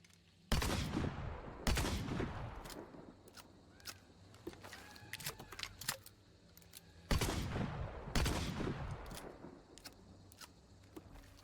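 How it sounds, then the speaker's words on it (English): Rival shotgun firing slugs in the video game Hunt: Showdown: two pairs of heavy, cracking shots with reverberating tails, separated by scattered faint clicks and handling noises, with no speech. "And this is how the rival, for example, sounds now with slugs."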